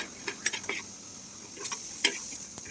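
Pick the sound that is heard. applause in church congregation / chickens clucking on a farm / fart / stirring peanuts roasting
stirring peanuts roasting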